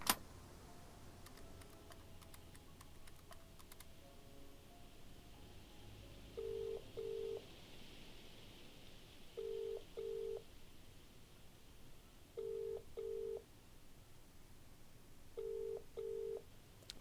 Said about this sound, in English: We can see what happens if we make the call.